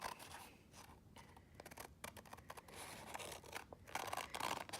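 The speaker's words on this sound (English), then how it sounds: "you're going to cut on the dark lines, and this is not going to be perfect since I'm hand cutting it" Kitchen scissors cut paper by hand along die lines for a traveler's notebook pocket, faint close snips and rustling paper in quick irregular strokes.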